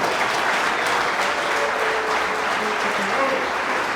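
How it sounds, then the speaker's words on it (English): Broad audience applause for university students at a College of Business event, a steady wash of many hands clapping for several seconds, with faint voices mixed in underneath. "round of applause for the students"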